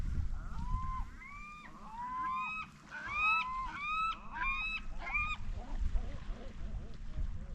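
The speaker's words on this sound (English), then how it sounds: "Two big old seagulls arguing with each other." Two large seagulls squawk back and forth 47 miles offshore of Mag Bay, a rapid series of harsh overlapping calls close by, over low boat engine rumble and water noise.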